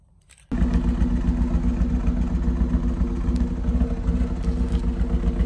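A Chevrolet Camaro engine with advanced timing fires up after a brief quiet moment, then idles loud and close with a choppy, lumpy cam-like pulse and mechanical clatter throughout.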